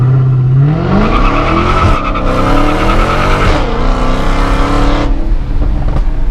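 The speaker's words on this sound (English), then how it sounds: "there was a lot of wheel hop and the whole car was just kind of really moving around" Dodge Hellcat launching hard, the engine rising into a roar as the tires squeal and lose grip, loud and close, with juddering bursts that fit wheel hop and no voices.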